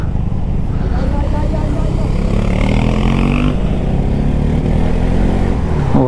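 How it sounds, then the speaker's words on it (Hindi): A Bajaj Pulsar NS 200 motorcycle accelerating at high altitude on a Ladakh mountain pass, its engine revving with a steady mid-pitched drone and rising tone, close and loud, with someone talking over it. "जैसे मैं एक्सीलेटर दे रहा हूँ तो वो एकदम से झटका मार रही है NS 200 मेरी।"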